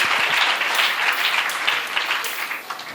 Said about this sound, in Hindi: बजाइए ना तालियां